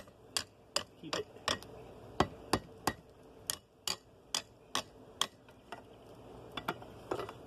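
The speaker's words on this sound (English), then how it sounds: "You want to hammer it on the side a couple of times." A hammer strikes spring steel tongs being forged, a dozen or so sharp ringing metallic blows at a fairly even pace, close and distinct with a quiet background.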